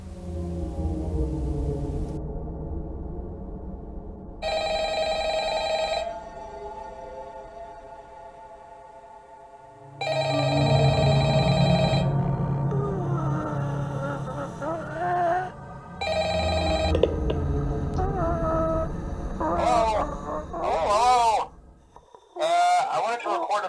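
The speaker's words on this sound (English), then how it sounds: "you hear another sound that you will forever remember. It's a telephone" An old-style telephone bell in Five Nights at Freddy's rings in repeated bursts with pauses between, followed by a voice speaking over a low electronic hum.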